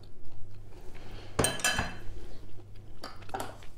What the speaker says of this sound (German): Dann tue ich die jetzt hier in meinen Teller.